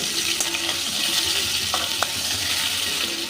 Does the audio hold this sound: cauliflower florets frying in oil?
yes